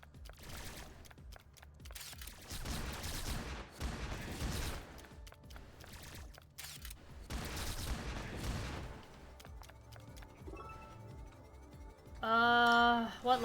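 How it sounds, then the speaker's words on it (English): Gunfire from enemies in the video game CRYMACHINA, a dense run of rapid shots and bursts with booming impacts that comes in waves, loud and sustained, before a ringing electronic tone near the end. "Who is shooting at me?"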